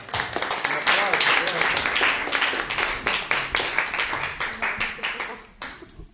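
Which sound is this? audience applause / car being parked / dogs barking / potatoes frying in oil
audience applause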